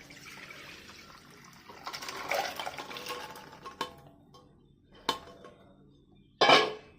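Rajma kidney beans being rinsed in a pot, water sloshing and dripping with a few sharp clinks of the pot, loud close splashes near the end and no talking.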